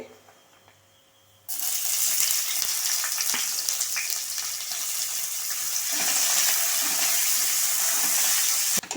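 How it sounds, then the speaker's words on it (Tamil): Sliced onion sautéing in a pan for ghee rice: after a brief quiet moment a loud, steady hiss of sizzling oil starts abruptly and continues unbroken. "வெங்காயம் இந்த அளவுக்கு நல்லா வதங்கிட்டுருக்கு"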